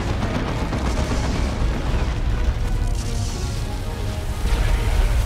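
Orbital strike explosions from Warhammer 40,000: Dawn of War 2 rumble as a dense, continuous roar of overlapping booms and blasts, loud and sustained throughout with no clear gaps between hits.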